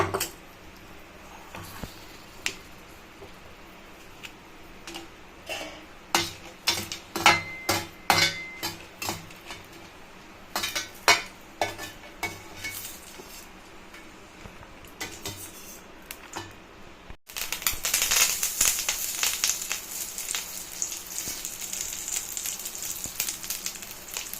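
Dried red chillies fry in a little oil for Rayalaseema groundnut powder, a steady sizzle under a run of sharp metallic pan knocks and scrapes that grows louder and more hissing near the end.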